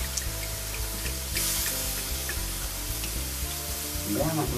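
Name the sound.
red wine poured into a sizzling pot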